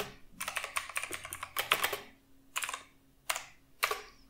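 A computer keyboard clatters in several quick bursts of keystrokes, a dense run of taps followed by shorter isolated clusters and pauses, close and clear with no talking.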